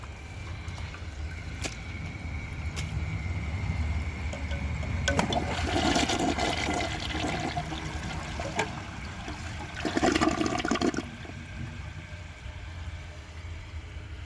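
A Mansfield Alto toilet flushes in a rushing gurgle of water over a steady low background hum, with surges near the middle and again toward the end.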